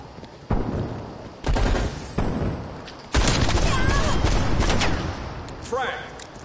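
Pistol fire in the Call of Duty Cold War video game, a handful of loud separate shots spaced about a second apart, with bursts of game noise and voices around them.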